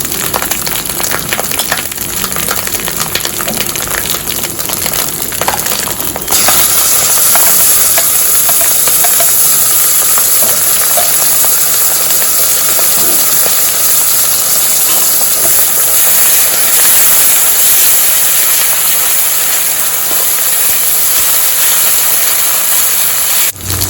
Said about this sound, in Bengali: রসুন আর আদাটা ভাজা হয়ে গেছে এবার আমি দিয়ে দিচ্ছি পেঁয়াজের পেস্টটা